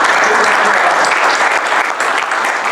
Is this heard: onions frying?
no